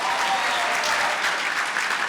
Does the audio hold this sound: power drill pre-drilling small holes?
no